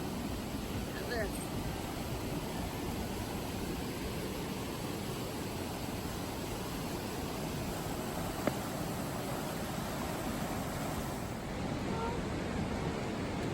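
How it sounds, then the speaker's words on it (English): A fast-moving river runs right beside a hiking trail, heard as a loud, steady broadband rush that fills the whole scene without letting up. "you can hear the river"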